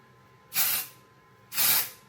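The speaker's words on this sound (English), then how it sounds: "Right, so my nice setting spray" Makeup setting spray mists out in two short, close bursts of airy hiss, roughly a second apart, with quiet between them.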